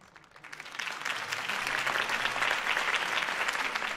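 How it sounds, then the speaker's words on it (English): Crowd applause from an audience after a campaign speech in the Batman Telltale Series video game, starting faint and swelling into steady, dense clapping that fills the scene. "could have heard that applause"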